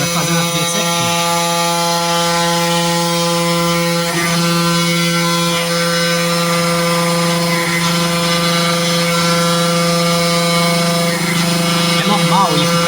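A CNC milling machine routes traces into a printed circuit board, giving a loud, steady whine with sustained tonal hum and motor drone throughout, and faint speech underneath.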